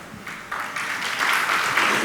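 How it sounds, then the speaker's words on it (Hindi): Audience applause breaks out at a spiritual talk, a soft patter of clapping that swells and grows steadier over two seconds, moderately distant with no voices on top. "अभी ताली मत बजाओ"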